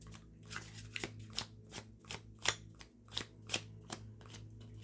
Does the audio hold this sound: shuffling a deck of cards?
yes